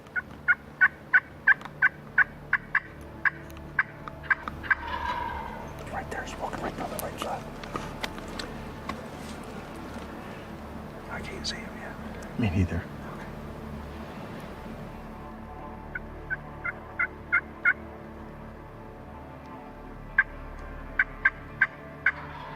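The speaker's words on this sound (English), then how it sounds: "we could hear them gobbling" Wild turkeys gobble during turkey season, their rapid rattling calls repeating in bursts at the start and again near the end, carrying from a moderate distance while someone talks over much of it.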